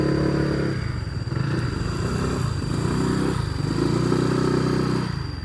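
Motorcycle engines rumble close by for several seconds, with harmonic tones rising and falling as two bikes pull in among mourners gathered at a house, accompanied by faint clatter.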